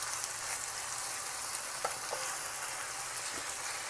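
Potatoes fry in pan drippings in a cast iron pan, giving a steady, close sizzle with faint crackles and a couple of soft pops, and no one speaking.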